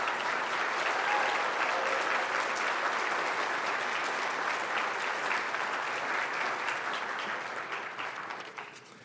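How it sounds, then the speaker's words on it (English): An audience at a 2025 service awards ceremony applauds the five-year honorees with dense, steady clapping that holds for several seconds and then tapers off at the end. "Please give them a round of applause."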